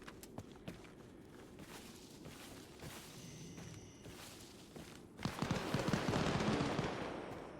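Gunfire in the military shooter game Arma Reforger: scattered rifle shots and bursts popping at middle distance, growing into a denser, louder volley of overlapping fire in the final seconds, with no talking.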